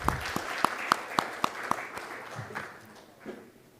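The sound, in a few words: audience applause for a conference speaker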